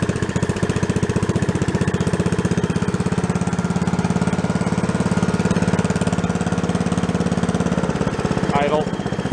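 A small gasoline engine on a log splitter, left abandoned for ten years, idles with a rapid, even chugging pulse, close and loud throughout, and a brief voice comes in near the end.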